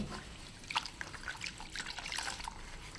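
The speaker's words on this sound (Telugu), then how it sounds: "ఒకసారి వాటర్ ముంచుకుందామండి" Water trickling and dripping from a saree cloth dipped into a basin while black oil stains are washed out, a soft close patter of small drips with no talking.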